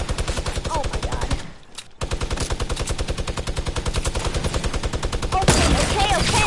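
Rapid, evenly spaced gunfire in a Fortnite match, a long run of sharp close shots with a brief gap, then louder, denser firing near the end, with a voice briefly audible.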